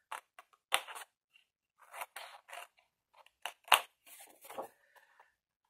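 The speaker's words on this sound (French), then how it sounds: "Alors, en face, on coupe." Scissors snip through cardboard in a run of short, crisp cuts with pauses between, fairly close and clear while a pirate-chest postcard box is made by hand; no talking.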